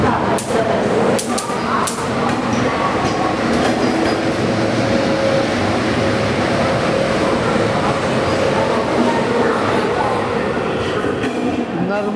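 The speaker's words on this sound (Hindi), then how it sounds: "जबलपुर प्लेटफॉर्म क्रमांक 6 पर आ चुकी है train number 1143 Danapur special via Jabalpur" A train rumbles steadily into platform 6 at Jabalpur station. The roar is loud and continuous, with faint rail clatter and clicks near the start.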